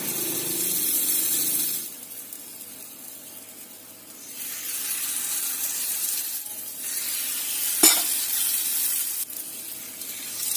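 Batter for a market snack sizzles and hisses in a non-stick frying pan, a broad steady hiss that swells and eases, with one brief sharp click, close and alone.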